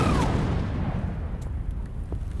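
Mass detonation of 2,500 landmines in a 10-meter deep pit, a heavy low boom rolling into a long rumbling tail that decays over a couple of seconds, with faint sharp cracks scattered through the fading roar.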